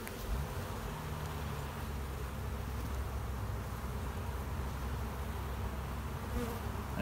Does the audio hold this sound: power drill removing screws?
no